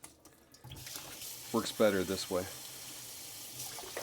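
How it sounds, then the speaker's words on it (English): Tap water running into a sink to flush out a kitchen appliance, a steady soft wash under a brief stretch of talk. "You can also fill up the water here, and the water will drizzle some,"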